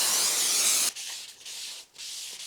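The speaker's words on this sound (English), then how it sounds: "we're going to spray it with some brake cleaner and wipe that off with a rag" A loud hiss of aerosol brake cleaner for about a second, followed by several rough rubbing strokes of a rag wiping the braking surface of a front brake disc on a Mazda MX-5 Miata, close up.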